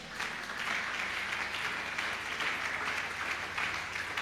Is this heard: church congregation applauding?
yes